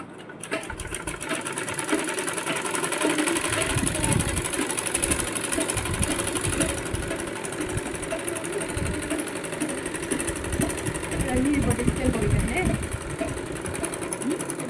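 An electric sewing machine stitching straight pants runs continuously with a close, loud, rattling whir, while a person talks over it throughout.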